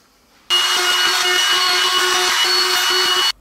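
A handheld router fitted with a round-over bit shapes the edges of a wooden children's rocking chair, a loud, steady high whine running for about three seconds with abrupt start and stop, no voices.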